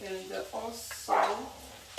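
A neighbor's dog barks a few times nearby while someone talks over it, the yips and woofs mixing with her voice in a home kitchen.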